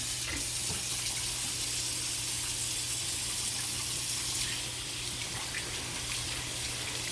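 Water runs steadily from a kitchen tap as hands are washed beneath it, a close, loud, unbroken gush with slight splashing changes toward the end and no talk.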